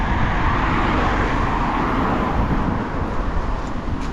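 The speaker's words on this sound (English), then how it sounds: "too much cars are passing, and also it's very windy and noisy" Steady, loud traffic roar from cars passing along a roadside in the UK, mixed with heavy wind buffeting, forming a continuous broadband wash with no pauses and no speech.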